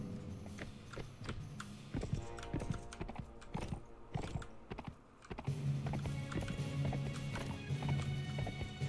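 Horse hooves clip-clop at a gallop in the medieval combat game Mount & Blade: Warband, a white horse carrying the rider, with steady rhythmic hoofbeats, a whinny and loud battle ambience throughout, briefly dipping before picking up again.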